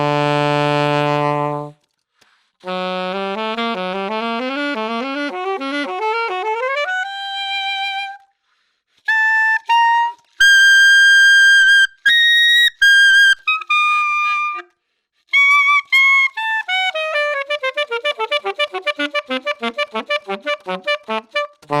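Saxophone with a mouthpiece closer to Adolph Sax's original design, playing sustained notes, a rising scale, high squealing altissimo tones, then a run of rapid staccato notes, alone and clear.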